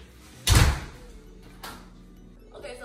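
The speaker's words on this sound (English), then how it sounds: "Okay, come back in. I'm gonna shut the door." A door in a Texas house shuts with one loud thump, followed by a softer knock about a second later and quiet room tone.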